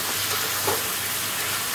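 Raw banana and potato with tomato and chilli are stirred in a pan over a cumin and dried-chilli tempering, giving a steady, close hiss of frying with a faint scrape partway through.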